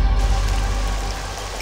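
Heavy rain pours steadily in a dense, loud wash of noise that fades slightly toward the end, with no voices.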